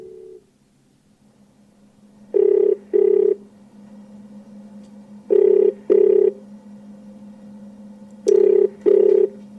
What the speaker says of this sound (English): Okay, I see Brandon's dialing somebody.